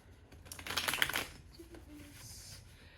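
A quick riffle of tarot cards being shuffled close by, a brief burst of rapid flicking followed by softer shuffling sounds.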